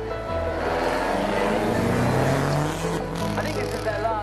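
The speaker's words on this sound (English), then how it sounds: "burning those tyres out now down by the house." Drift car burning out its tyres on the hill at the Festival of Speed, a steady loud engine drone with tyre roar holding throughout, a brief dip near the end, a commentator talking over it.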